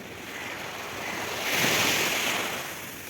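A larger sea wave rolls onto the beach at Chaitya Bhoomi, Mumbai, the steady surf hiss swelling into a close, loud crash midway before easing back, with wind across the microphone.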